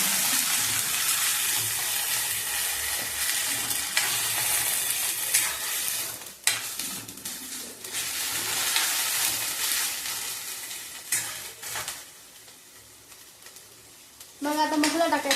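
Roasted onion, coconut and garlic gravy tipped into browned onion in a pan, hissing and sizzling steadily with stirring scrapes, easing off near the end before a fresh burst of frying.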